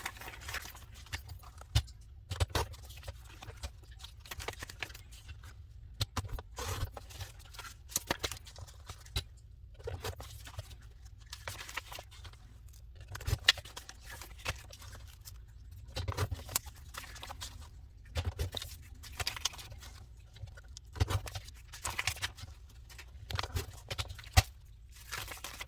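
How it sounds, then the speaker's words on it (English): Scissors snipping memo paper into small micro notes, with irregular soft cuts and rustling paper repeating throughout, faint and close. "I'm just going to go through and cut the rest of it"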